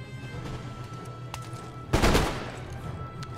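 A musket volley rings out in Napoleon: Total War as British and Dutch lines fire into enemy grenadiers: one sharp, loud crackling burst of many shots at once, preceded by scattered distant pops over a low battlefield rumble.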